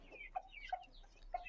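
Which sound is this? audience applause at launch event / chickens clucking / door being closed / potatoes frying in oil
chickens clucking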